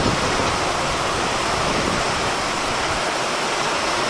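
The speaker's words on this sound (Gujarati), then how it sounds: "સાથે થોડોક પવન પણ છે" Heavy rain with large drops and a little wind pours down in a constant, broad hiss close by, unchanging from start to finish.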